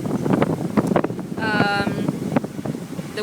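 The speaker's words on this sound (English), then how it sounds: "The wind, wow, really intense." Strong, intense afternoon wind on a Caribbean beach at Riohacha, Colombia, roaring and buffeting the microphone in steady gusts, while someone speaks over the rushing noise throughout.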